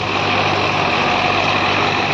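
Tractor engine under heavy load pulling a 9x9 harrow at 1700 rpm, a loud, steady low diesel drone held without a break.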